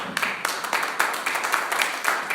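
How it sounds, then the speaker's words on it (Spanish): A church congregation gives quiet applause, steady overlapping hand claps at moderate distance with no talk over them. "Denle un aplauso al Señor."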